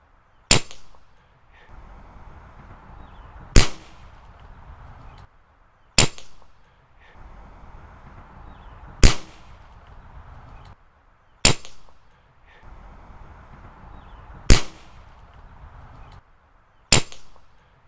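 Suppressed airgun shots: seven sharp, clipped cracks at irregular intervals of two to three seconds, each with a brief tail, with a faint background hum between shots.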